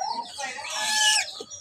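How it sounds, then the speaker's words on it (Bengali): A chicken lets out a single loud, drawn-out call close by, rising and then breaking off within about a second. "ওই পাশে মুরগি আসছে, মুরগিগুলো আবার দেখছে।"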